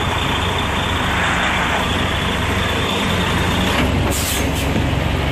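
A truck backing up at a shipper's dock rumbles loudly and steadily, then a sharp hiss of air brakes releasing bursts out briefly near the end.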